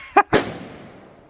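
Two sharp rifle gunshots outdoors, fired a split second apart, the second louder, each cracking sharply and trailing off into a fading echo.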